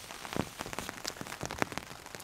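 Rain falls on a tarp canopy over a forest camp in the rain, a steady patter broken by scattered heavier drops that tap sharply and close by, with no voices.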